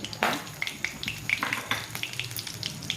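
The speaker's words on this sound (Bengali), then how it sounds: "তেলটা গরম হয়ে যাওয়া সব গোটা মশলাগুলো দিয়ে" Whole spices hit hot oil in a kadai with a sudden loud sizzle, followed by a busy crackling and popping that continues close up without any voices.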